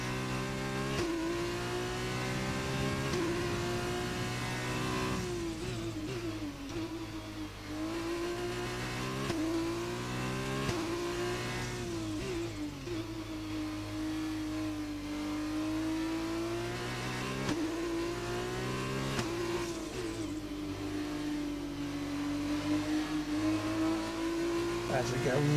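A Formula 1 car engine in the F1 2020 racing game holds a loud, steady high whine throughout, its pitch rising and falling with each gear change and corner, with a voice talking over it.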